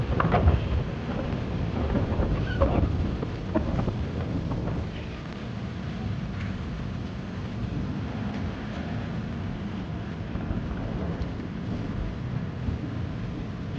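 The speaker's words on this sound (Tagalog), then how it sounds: "Lakas ang hangin." Heavy wind rumbles and buffets the microphone continuously in Rizal Park, loudest early on and then settling into a steady low roar.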